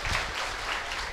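An audience applauds at an award ceremony on the Wari pilgrimage route. A dense, even burst of clapping holds steady for about a second, with no distinct voices.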